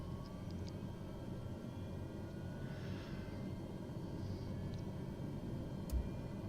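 A Beechcraft King Air turboprop engine spools up on start, a steady low rumble with a faint rising whine that holds at a constant level throughout, with no voices.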